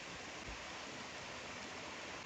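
Kbal Spean river in Cambodia flowing steadily over rocks, a continuous broadband rush of water with no breaks, close and even throughout.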